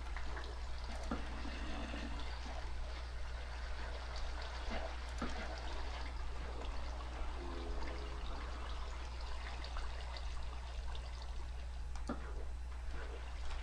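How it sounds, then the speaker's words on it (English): Flowing water in Minecraft trickles and streams continuously at a low, even level, a faint steady wash with a few soft clicks and no talking. "Dude, that water goes way, way up."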